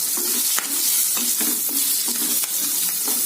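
Steady, close sizzling of green chili peppers frying in a pan with salt and turmeric, with a spoon scraping and stirring every half second or so, no voices.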